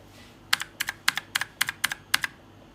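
Clicky keystrokes on an OKER K430 RGB mechanical gaming keyboard with blue switches, about eight sharp, evenly spaced presses that each give a double click, close and crisp against a quiet background.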